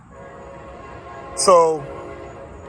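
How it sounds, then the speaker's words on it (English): A passing train sounds its horn in a short, fairly loud blast of about half a second over a low rumbling background, with someone speaking briefly nearby. "apologize for that train or whatever it is."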